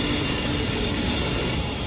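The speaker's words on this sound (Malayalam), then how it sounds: "അപ്പുറത്തും പോകുന്നുണ്ട് ട്രെയിൻ" A steady, loud roar of a train rolling past, a continuous rumbling hiss with no pauses.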